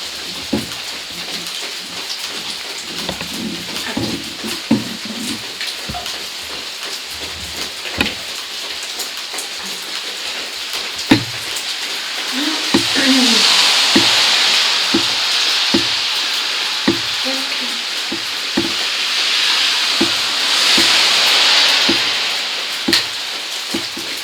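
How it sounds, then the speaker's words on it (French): Steady rain falls around a country house, a continuous hiss with heavier gusty spells, scattered drips and soft knocks, with no talking. "si j'entends même marcher maintes fois, avec le bruit de la pluie"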